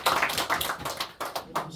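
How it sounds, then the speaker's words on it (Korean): A church congregation at a Sunday morning service applauds together, with dense, close, lively clapping that pulses in rapid bursts for under two seconds. "우리 박수 한번 하겠습니다."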